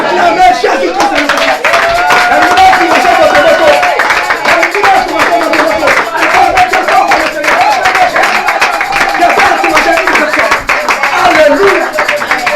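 A Sunday church congregation claps continuously in quick, rhythmic bursts while voices shout and acclaim over the top, loud and close throughout.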